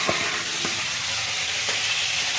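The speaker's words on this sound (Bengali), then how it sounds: "এই আমার ফুলকপি ভাজা হচ্ছে" Cauliflower florets frying in a pan give a steady, close sizzle throughout, with a few brief clinks or stirs.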